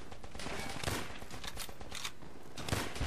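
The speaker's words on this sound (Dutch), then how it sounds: "Je schiet je eigen gebouw kapot" Rapid bursts of gunfire in the Call of Duty: World at War video game as shots hit a building, a dense crackling volley of overlapping reports lasting a few seconds with no talk.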